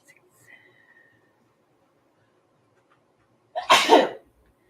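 A single loud, close sneeze bursts out near the end after a few seconds of near silence, preceded by faint small sounds.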